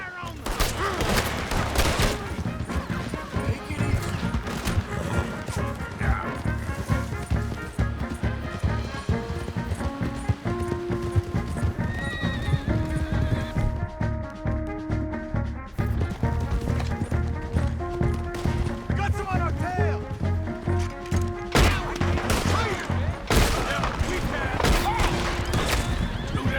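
Gunfire and horses in the Red Dead Redemption 2 video game: repeated sharp shots and galloping hooves with whinnies, dense and loud throughout, mixed with game music and shouting voices.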